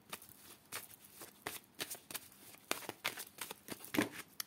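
A deck of playing cards being cut and handled, giving a run of crisp papery snaps and riffles in quick, uneven bursts, close by and fairly quiet, with no talking.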